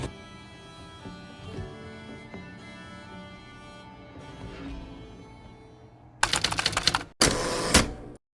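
A sewing machine hems the legs of leisurewear, quiet fabric handling and faint clicks at first, then two loud bursts of fast rattling stitching close by near the end.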